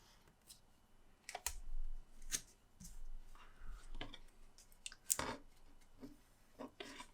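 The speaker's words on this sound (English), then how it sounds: "Let's cut around the edge like so." Faint, close snips and crisp clicks of scissors cutting around the edge of a paper dolls house piece, an irregular series of short cuts with soft rustling between them and no talk.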